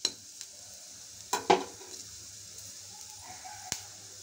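Urad dal fries in a pan as the base for a spine gourd fry, a soft, steady sizzle punctuated by a few sharp clinks of a spoon against the pan; nobody talks.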